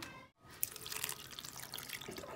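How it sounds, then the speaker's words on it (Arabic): A cup of water is poured into a cooking tray for a crab dish in tahini and lemon soup, giving a close, continuous splashing trickle after a brief silent gap, with no voices. "حنحط على كل واحدة تقريبا كاسة من المية"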